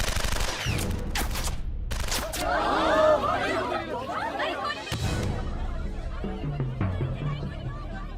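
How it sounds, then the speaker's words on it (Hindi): Machine gun fire in a Hindi film scene bursts out amid loud, chaotic action, overlapping with voices and crowd chatter as the shooting continues. "राइफल को छोड़ो, अभी मशीन गन से वामन साहब को उड़ाऊंगा।"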